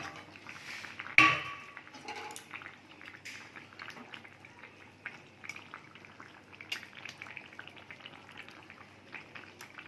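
Fish pieces dropped into a simmering fish curry, a single loud splash and clatter followed by soft, steady bubbling and faint pot sounds.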